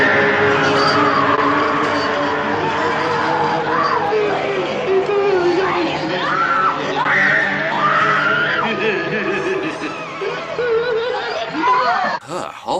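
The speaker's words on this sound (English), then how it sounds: "All this screaming." Shrill, sustained screaming from the horror film The Texas Chainsaw Massacre, set at a dinner table, loud and continuous over a dense soundtrack with other voices, easing briefly near the end.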